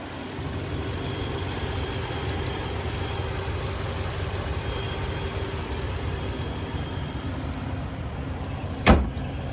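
A 2022 Ram 1500 Big Horn with a 5.7-liter V8 idles steadily up close, a low, even rumble that holds throughout, with a single sharp click near the end.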